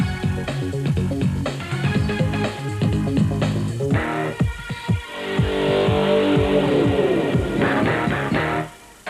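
Off-road race cars in the super special category rev hard together at the start of a 1997 Super Series heat, a loud dense engine roar with rising and falling pitch sweeps, continuous for most of the stretch before cutting off near the end.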